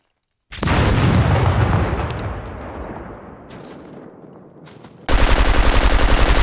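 Gunfire in the video game Scum during a PvP event: a dense, loud burst of automatic fire that trails off over several seconds, then a second sharp, sustained volley of rapid shots at the end.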